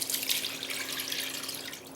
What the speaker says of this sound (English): Line a strainer or colander with a fine cheesecloth and empty your